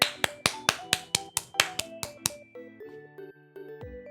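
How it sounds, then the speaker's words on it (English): Bare hands clap about ten times in a brisk, even rhythm, each clap sharp and close. Faint electronic tones follow once the clapping stops. "I was clapping my hands."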